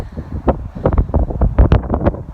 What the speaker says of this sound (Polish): strasznie duży wiatr jest.